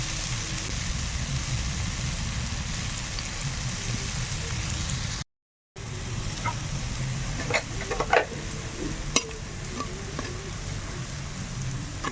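Gram flour boondi drops deep frying in hot oil for motichur laddu, giving a steady, dense sizzle with a brief cut in the middle and a few light clinks near the end.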